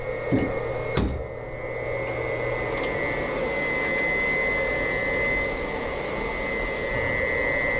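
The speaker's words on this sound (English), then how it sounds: "I hear it pushing air out there." Air hisses steadily out of a radiant heating system being filled with glycol in a garage and basement, a continuous broadband rush after a couple of sharp clanks at the start.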